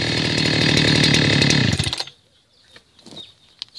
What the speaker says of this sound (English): Pull out the choke and give it a good jerk.